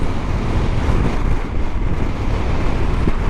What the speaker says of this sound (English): The trees are swaying in the wind. There's a lot of noise.